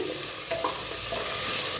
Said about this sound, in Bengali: এবার সমস্ত কিছু মিশিয়ে নিয়ে ভালো করে একটু ভাজা ভাজা করে নিচ্ছি